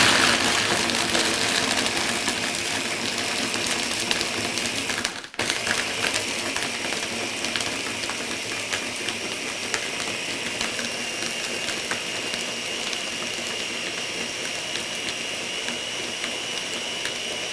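A Ninja blender motor runs continuously, a loud steady whine with gritty mechanical buzz, briefly interrupted by a short dip before resuming at full speed, blending milk.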